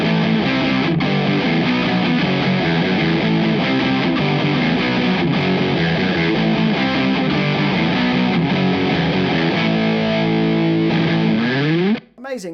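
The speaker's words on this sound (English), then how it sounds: "we've got the distortion pedal now set to the big muff setting" Electric guitar through a distortion pedal on its Big Muff setting, chorus off: thick, fuzzy sustained chords played continuously and loud, ending with a sliding squeal as the notes cut out.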